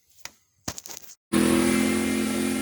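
A 2018 Bad Boy zero turn mower engine starts after a few faint clicks and rattles, then runs on with a loud, steady, close-up drone.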